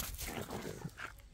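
A dog fetching a ball pants and shuffles close by in short, uneven bursts, with brief scuffing movement.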